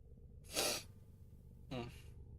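A person sneezes once, a sharp burst of breath, followed a moment later by a shorter sniff or exhale, close and fairly quiet.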